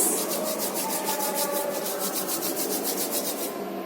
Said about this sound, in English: Everyone, rub your hands.